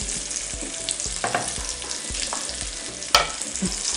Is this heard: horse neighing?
no